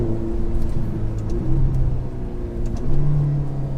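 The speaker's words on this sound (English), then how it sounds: "Changing up or changing down, the engine the engine tone changes." Ferrari Portofino M engine revving on Italian roads, a loud steady engine drone whose pitch rises and falls as gears change, with two swells in intensity and no talk.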